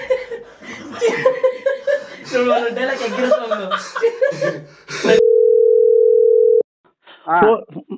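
Talk and chuckling give way to a loud, steady single-pitch phone disconnect tone lasting about a second and a half after a call is cut, then a brief voice returns.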